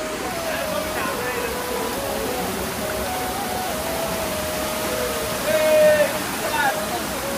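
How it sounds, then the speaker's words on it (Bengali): A hillside waterfall in Netrokona, Bangladesh, spills into a babbling stream, producing a steady, close rush of falling and flowing water with a brief louder splash near the end. "কলকলিয়ে বয়ে যাচ্ছে পানি।"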